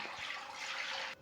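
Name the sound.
pouring three glasses of water into a kadhai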